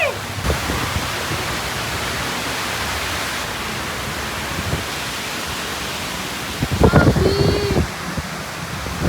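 Steady broadband roar of strong wind buffeting the microphone, with a few louder gusts and thumps near the end.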